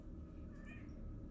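A cat gives a single faint meow midway through, soft and brief over a steady low background hum.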